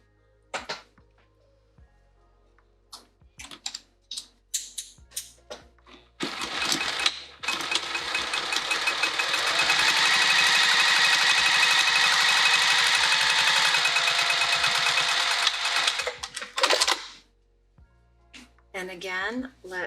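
A sewing machine runs in one long steady burst, stitching straight across a fabric spring roll pouch, with short handling clicks and brief bits of speech before and after.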